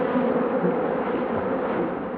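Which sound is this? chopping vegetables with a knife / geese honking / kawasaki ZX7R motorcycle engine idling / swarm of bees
swarm of bees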